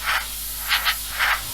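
Short bursts of an airbrush spraying green paint onto a 1/24 Airfix F6F-5 Hellcat model, three or four soft hissing puffs close by over a faint background hum.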